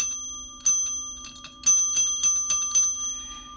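A metal hit bell is struck about six times, once early and then in a quick run, each strike giving a bright ping over a sustained, clear ringing tone that carries throughout.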